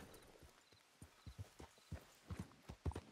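A horse's hooves in the video game Red Dead Redemption 2 clip-clop at a walking pace, a steady series of hollow knocks growing a bit louder and closer, with no talking.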